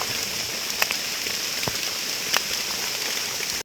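Rain falling in the Nong Mek forest during mushroom picking, a steady hiss of drops on leaves with a few sharper nearby taps standing out, continuous and without speech.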